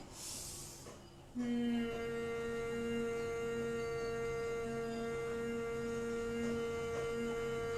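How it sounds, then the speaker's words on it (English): A steady, sustained hum made with lips closed on the out-breath starts after a short inhale and holds as one even tone with strong harmonics, close and alone. "We're going to do a humming sound."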